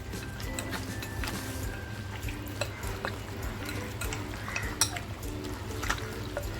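Mutton curry with salt is stirred and mixed in a pot, giving a continuous wet, sloshing scrape with small clinks of the spoon against the metal, close and moderately loud over a low background hum.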